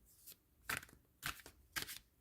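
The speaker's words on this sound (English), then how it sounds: "Okay, these are very easy to shuffle." A tarot deck with a Yuletide theme being shuffled by hand, three quick riffling bursts of cards at close range, separated by short pauses, with no voices.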